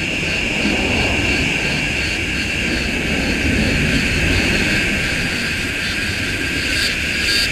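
A steady, loud airplane roar dominates throughout, a broad engine rumble with a high whine as a jet taking off from Melbourne Airport climbs past overhead.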